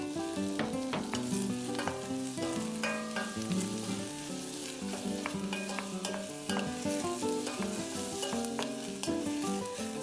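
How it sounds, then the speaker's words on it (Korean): Sliced onions and mushrooms are stir-fried in a pan, with a constant crackling sizzle and scraping stirs, heard over a steady backing melody and without talk. "썰어 놓은 양파를 먼저 볶아줍니다. 양송이도 볶아주세요."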